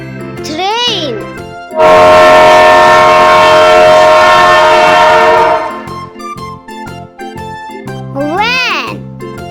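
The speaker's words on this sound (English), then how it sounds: "Train." Train horn blaring in one long, loud, sustained blast that fades into rumbling wheels and then stops, between short bits of music and a voice.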